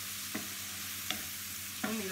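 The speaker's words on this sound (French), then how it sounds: "Et notre viande, elle va commencer à cuire et griller un petit peu autour" Ground meat sizzling in a pan with cumin for a quick chili, a constant close frying hiss broken by three short scrapes of stirring.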